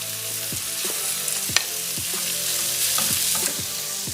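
Minced meat frying in a pan, a constant bright sizzle broken by regular scraping strokes of stirring, close up with no voices.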